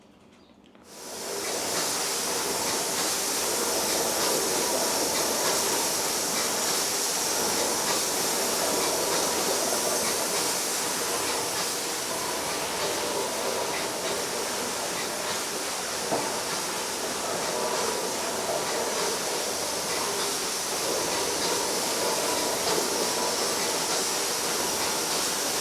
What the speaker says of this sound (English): How cool is the steam engine? I could just sit there and watch that running all day.